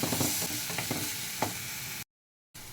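A masala of coriander, garlic, coconut and ginger roasts in a pan, giving a close, dense sizzle with a few stirring scrapes, cut by a brief total silence before the sizzle resumes.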